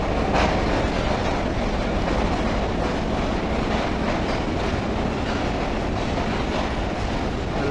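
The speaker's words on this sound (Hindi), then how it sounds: "ये देखें जी माशाल्लाह हवेलियों से आई है ये ट्रेन जी" A passenger train on the Karachi to Islamabad line passes on the tracks, a steady loud rumble with clattering wheels that continues throughout, with no talking.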